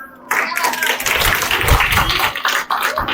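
Audience clapping at a children's Republic Day programme and prize giving, a steady patter of hands lasting a few seconds with voices mixed in.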